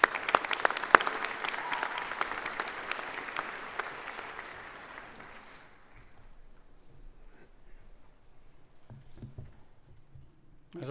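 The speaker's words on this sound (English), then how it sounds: "please join me in a round of applause in recognition of his accomplishments" Audience at a university fall convocation in a large hall gives a sustained round of applause that tapers off after about six seconds into quiet room noise with faint voices.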